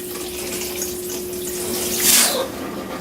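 RV faucet running during winterizing with antifreeze, with a steady close water flow and a hum, then a short sputtering burst of air near the end.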